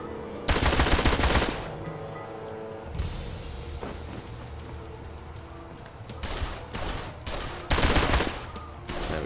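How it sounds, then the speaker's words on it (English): Gunfire rattles out in Blues and Bullets, several loud rapid bursts of automatic shots separated by quieter stretches of game sound, with the heaviest volleys near the start and toward the end. "I can literally just go firing away."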